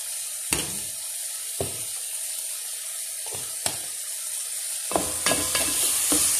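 Chicken cooks in a pot for saluyot soup, giving a steady sizzle with several sharp clacks as it is stirred.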